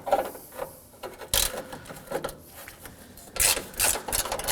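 A 10mm socket wrench works loose the four bracket bolts on top of the radiator of an Acura MDX, giving bursts of close ratcheting clicks and scraping, separated by quieter handling.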